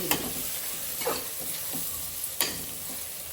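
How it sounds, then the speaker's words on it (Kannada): Onions frying in a pan for a village-style horse gram dish, a steady hiss of sizzling oil with a few sharp stirring scrapes standing out. "ಈಗ ಒಂದು ಕಡೆ ಈರುಳ್ಳಿ ಎಲ್ಲ ಹಾಗೆ ಹುರಿತಾ ಇದ್ದಾರೆ"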